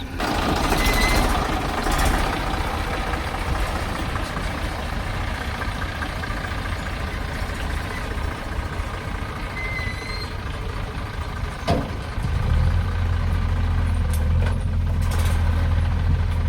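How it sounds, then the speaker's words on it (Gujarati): A farm tractor loaded with cow-dung manure arriving with its engine running, a steady near low rumble throughout that swells louder toward the end. "આ પહેલું ટ્રેક્ટર છાણિયું ખાતરનું ભરાઈને આવી ગયું છે"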